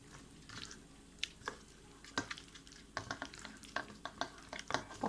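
Wet squishing and stirring of marinade being worked by hand into pieces of pullaganda fish, a run of soft, irregular squelches and drips close up with no talking.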